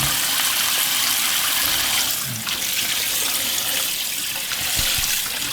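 Boiled dried radish greens are washed in water, with a steady rush of running water and splashing close by and no talk.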